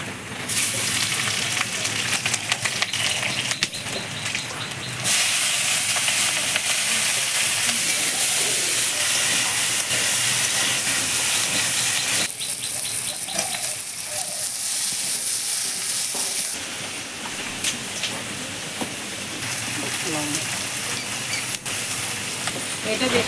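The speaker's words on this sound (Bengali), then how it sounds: "বন্ধুরা ঠিক চিংড়িগুলো এরকমভাবে ভাজতে হবে।" Prawns fry in a pan with a bright, steady sizzle and hiss that shifts in intensity as they are stirred, close and fairly loud throughout, with brief quieter stretches between bursts.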